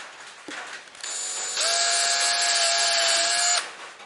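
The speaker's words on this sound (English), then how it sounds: "drill a hole." A drill bores a hole through a thick plastic blaster part, starting with a short tap and then a steady, high whining buzz that holds for a couple of seconds before stopping.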